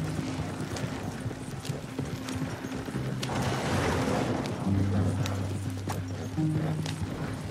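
Horses trot in Red Dead Redemption 2, their hooves clip-clopping steadily and fairly close over a constant game ambience, with low tones running underneath.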